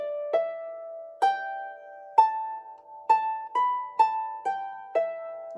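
A harp plays a short melodic section of the tune Shooyl Inneenyn, about nine clear, evenly spaced plucked notes ringing out and decaying, played alone with no talking.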